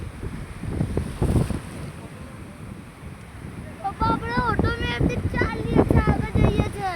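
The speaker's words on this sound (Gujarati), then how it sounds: "આ દરિયો છે લોકો એના ફરવા આવે છે" Wind and sea waves roar steadily on the Surat seashore with gusty buffeting on the microphone, and people chatter over the surf during the second half.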